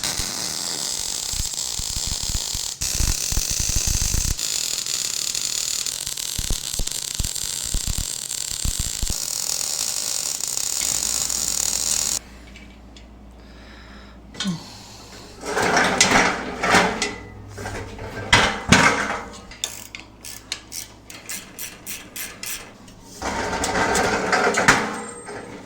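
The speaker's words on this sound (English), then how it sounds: "I gotta drag my welder over here." A welder on casters dragged across a shop floor, giving bursts of rattling, clanking and rolling scrapes that start and stop through the second half, after a steadier mechanical hum.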